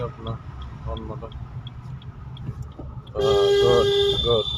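A car horn sounds on a driving lesson in Ichapur. A person talks at first, then a single loud, sustained honk lasting about a second and a half blares close by near the end.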